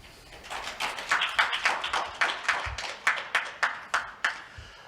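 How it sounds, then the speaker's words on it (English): Applause welcoming a speaker at a fellowship program opening ceremony in Korea, heard as a run of distinct rhythmic claps in regular pulses, fairly faint and with no talk over it. "please welcome him with a big round of applause"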